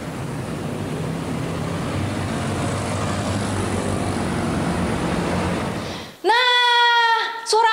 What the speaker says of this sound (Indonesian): ada yang bilang suara motor, ya suara kendaraan